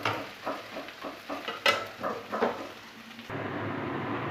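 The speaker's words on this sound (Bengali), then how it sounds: "এটা উচ্ছেটা ততক্ষণ ভাজা হোক" Bitter gourd fries in a pan, sizzling with a series of rhythmic scraping stirs, after which a steadier, softer frying hiss continues alone.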